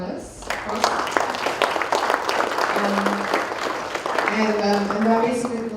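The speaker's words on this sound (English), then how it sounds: "A round of applause for the panelists." An audience applauds panelists at the close of a summit session in Jakarta, with steady clapping running throughout and voices audible over it.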